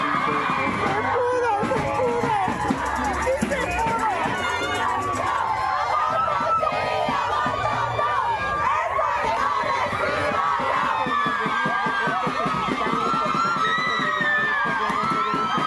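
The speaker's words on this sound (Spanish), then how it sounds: "Entre gritos y porras lo hicieron así." Feminist groups shout and cheer in a packed legislative chamber after a vote decriminalizing abortion in Guerrero, Mexico: a dense, unbroken roar of many voices, whoops and chants, loud and close throughout.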